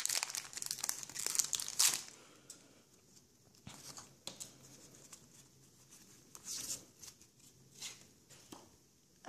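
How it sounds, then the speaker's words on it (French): Foil wrappers of Pokémon booster packs from a Mega Charizard collection box crinkle and tear nearby, with a busy burst of crackling at the start and then softer scattered rustles and crinkles. "je vais ouvrir les 3 boosters de ce coffret"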